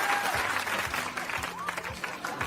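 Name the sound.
audience applause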